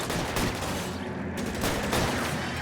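Sustained video-game gunfire in a combat firefight rolls on continuously as dense, loud volleys and rapid bursts, with no spoken voices in the clip.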